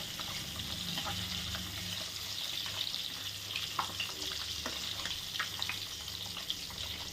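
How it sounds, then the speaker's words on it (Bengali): Eggs fry in oil for a Bengali egg curry, a soft, fairly faint continuous sizzle with light scattered crackles and occasional utensil taps, and nobody speaks. "আমি এবার এই ডিমগুলো একটু লাল লাল করে আমি ভেজে নিয়ে নেব।"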